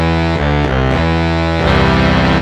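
A free saxophone VST plugin voice with a synth-like, slightly accordion-ish buzzy tone, playing a few sustained notes that change pitch, loud, dense and even with no vibrato, and no speech.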